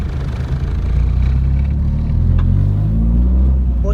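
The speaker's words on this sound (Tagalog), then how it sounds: "Gently release the clutch as you step on the gas." A manual-transmission car pulls away in first gear as the clutch is released, its low engine rumble rising steadily and close by, with a voice speaking briefly near the start.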